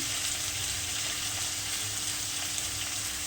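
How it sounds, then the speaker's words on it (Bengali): Potatoes and raw green banana fry in oil in a pan for pabda fish curry, giving a steady, even sizzle that runs unbroken at moderate volume with no talking. "এগুলো ভালো করে ভেজে নিয়ে তারপরে মশলা দেবো"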